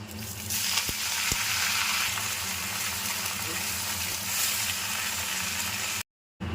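Chopped greens with crushed garlic and chopped chili fry in a pan with a loud, continuous sizzle and hiss, a couple of sharp clicks, then a sudden cut to silence near the end.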